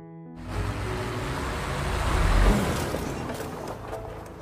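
Truck rushing close past a pedestrian in a film scene, a broad low roar swelling to a loud peak then fading, with a dense wash of road noise.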